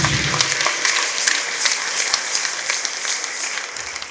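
A church congregation claps together, a dense sustained wash of many hands applauding at moderate volume for several seconds without a clear break.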